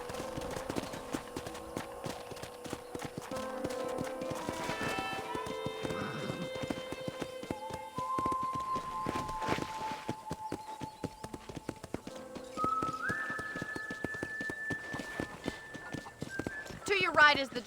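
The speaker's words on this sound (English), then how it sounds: "I picked out a fine horse for you" Horse hooves clip-clop steadily on a ranch in the Red Dead Redemption video game, with occasional whinnies, game music tones and a character speaking over the riding.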